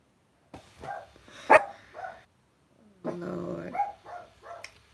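Dogs barking at a car driving by, a sharp loud bark burst near the start followed by a longer stretch of yapping and growling-like vocalizing, fairly close, with quiet gaps between.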